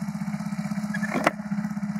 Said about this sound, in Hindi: बाइक स्टार्ट हो गई है तो इसे थोड़ा सा गर्म होने देते हैं।